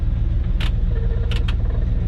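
A Ford F Super Duty truck idles with a steady low engine rumble, its fan running underneath and a few brief sharp rattling clicks cutting through, close by and without speech.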